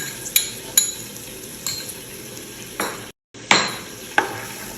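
Sliced onion fries in a little oil, a soft, steady sizzle punctuated by a spoon clinking and scraping against the pan every second or so.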